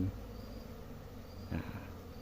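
Honey bees buzz around a new hive made of old wood, a low steady drone close by and filling the whole clip, with a brief louder swell near the middle.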